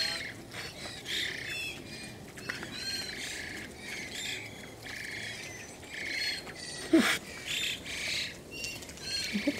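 Fat, fluffy birds in a snowy aviary keep up a busy chorus of trills, chirps and squawks, fairly close and lively, with one louder squawk partway through and no voices.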